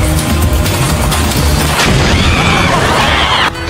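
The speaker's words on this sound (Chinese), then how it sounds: "突然的大爆炸" A sudden big explosion goes off on a prank obstacle course, a loud booming blast with crackling debris and a rushing tail that lasts a few seconds.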